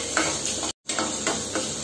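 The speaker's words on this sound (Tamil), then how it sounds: "இப்போது வெங்காயத்தை வதக்கிக்கோங்க." Chopped onion sautés in a pan for a keerai poriyal of thuthi leaves, a close, steady sizzle with rhythmic stirring scrapes and a brief cut to silence midway.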